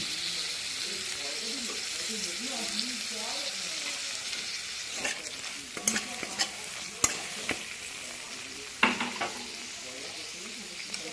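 Tomato and red chili powder are sautéed with a little water in a pan for a vegetable khichuri. A steady soft sizzle runs throughout, with a spoon scraping and clinking in the latter half and a voice speaking in the background.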